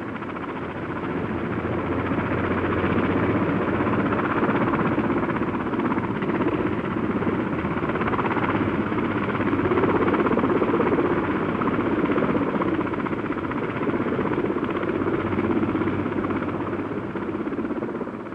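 A 1960s Westland helicopter's rotor and engine roar steadily and loudly throughout, a constant dense drone with no voices.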